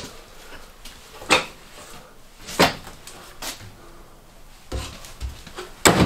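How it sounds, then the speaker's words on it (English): Cupboard doors in the kitchen of a 2019 Grand Design Transcend 30MKS RV open and close, giving several sharp knocks and thumps spaced a second or so apart in a quiet room. "Open cupboard here above the microwave."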